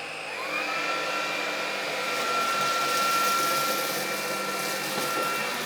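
A Dreame Z10 Station cordless vacuum cleaner runs at maximum power over carpet strewn with debris, giving a steady, loud whirring motor drone with a high whine that holds for several seconds.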